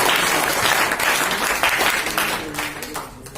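A seminar crowd at a business check-in event bursts into loud, dense applause for new achievers, a thick wash of clapping that stays strong before thinning slightly toward the end.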